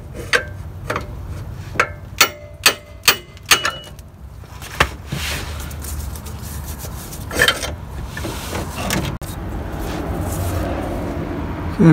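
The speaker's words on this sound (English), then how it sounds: "I don't want to keep pounding it with the screwdrivers in place" Sharp metallic strikes ring out in a quick burst of several hammer blows on a rusted CV axle bearing bracket of a 2002-2006 Camry V6, close and loud, then give way to scraping and rubbing.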